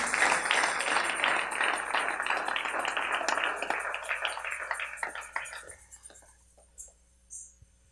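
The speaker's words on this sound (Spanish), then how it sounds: "Alguien dele palmas a Dios con todo su corazón." Church congregation clapping during a Spanish-language sermon, dense sustained applause with murmuring voices that gradually thins into a few scattered claps and quiet by the end.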